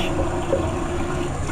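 Steady rush of running water from a tap at a sink during a face wash, continuous and fairly loud, close by with no speech.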